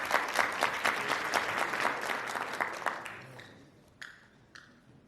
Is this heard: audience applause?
yes